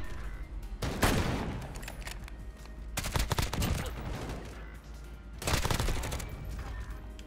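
Assault rifle fire in the video game Modern Warfare comes in three sharp rapid bursts, loud and close, with short gaps between them.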